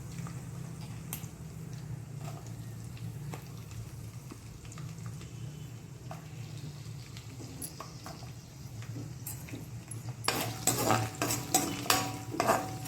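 Onions and green chillies sizzle in hot oil for sambar, a continuous soft frying hiss with occasional stirring scrapes of a spoon, growing louder and busier near the end.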